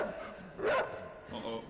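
A dog barks in the video game Inside, one sharp bark and a fainter second yelp, with a person talking over the game sounds.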